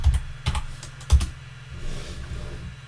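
Keystrokes on a computer keyboard as a password is typed, a few sharp separate taps in the first second and then lighter, quicker clicks, close and alone.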